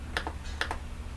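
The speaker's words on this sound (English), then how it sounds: "It helps if I could hit the right buttons on my keyboard." A few quick keystrokes on a computer keyboard in two short bursts, close and fairly quiet, during work on a mermaid scale stencil design for a Cricut machine.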